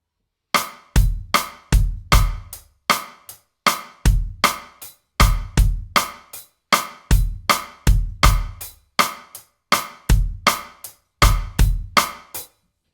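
A drum kit plays a steady, repeating groove with punchy kick and snare hits and crisp cymbals, close and loud, with brief gaps between phrases.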